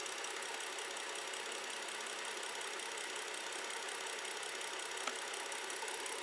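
A BMW 535 with low oil pressure idles in a steady, dense mechanical rumble and clatter, close and unchanging throughout, with a single brief tick near the end.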